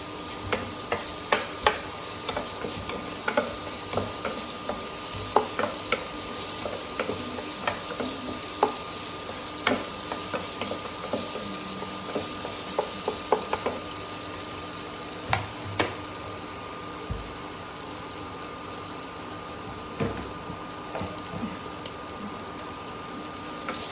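Chopped garlic and onion sauté in an oiled pan for a Filipino ground-meat dish, a steady close sizzle broken by scattered clinks and scrapes of a spatula stirring, with no talking.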